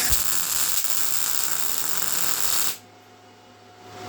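Welding a steel patch plate onto a piece of metal: a steady, loud crackling sizzle for nearly three seconds, then it cuts off, leaving a low hum.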